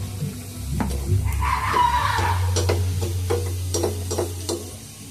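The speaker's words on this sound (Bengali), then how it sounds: "আর আমি একটা একটা করে তেলে দিয়ে আমি ছেঁকে নেবো এইভাবে।" Palm-flavoured luchi fry one at a time in hot oil for a Janmashtami meal, a soft bubbling sizzle with light clinks and stirring taps over a low steady hum, close and unvoiced.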